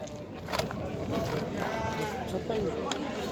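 Sheep bleat at a busy livestock market, several wavering calls at moderate distance against a steady crowd murmur, with people talking nearby.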